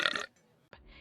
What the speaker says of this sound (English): even letting out his infamous chili dog burp